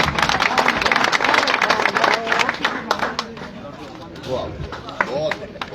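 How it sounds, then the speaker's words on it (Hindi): A crowd gives loud applause for Pradeep Garg at a public gathering in Safidon, Haryana: dense, continuous clapping that tapers off somewhat, with a voice over it. "प्रदीप गर्ग जी के लिए एक जोरदार तालियां"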